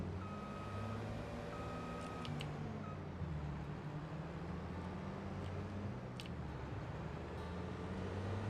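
A tractor in a farming video game sounds steady reversing beeps: a high, evenly pulsed tone that repeats over a low, continuous engine rumble, with a few sharper clicks mixed in.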